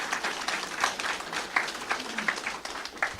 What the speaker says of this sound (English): So I'll give them a quick round of applause.